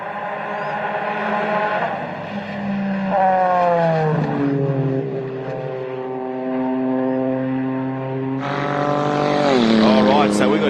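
A Nissan Super GT race car with a V6 engine passes on a circuit, its engine note rising and falling through gear changes, then swelling loudly as the car comes close near the end.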